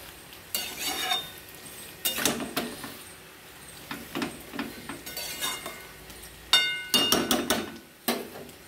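Malabar spinach curry being stirred in a pan, a spoon scraping and clattering against the metal in irregular bursts with faint sizzling between strokes.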